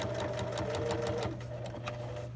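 A sewing machine stitching the understitch on a trouser fly, running in a steady rapid mechanical chatter that slows slightly toward the end, close and clear with no speech.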